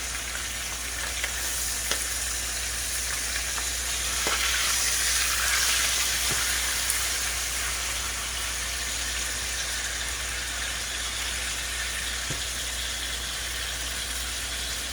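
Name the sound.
food frying and sizzling in a pan as it is flipped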